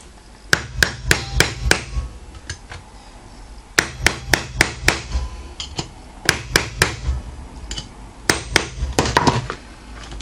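Sharp, loud hammer blows on a metal ring binder mechanism, struck in quick bursts of four to six hits with short pauses between, ringing and close.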